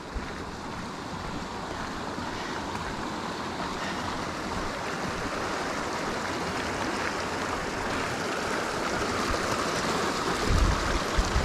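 Waterfall at the upper section of a falls on a mountain hike in American Fork Canyon, a constant broadband rush of water with some wind buffeting, steady throughout with no talk.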